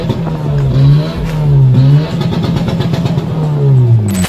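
A Honda Civic's engine revs hard and close, its pitch repeatedly climbing and falling over about four seconds, loud and steady with no voices.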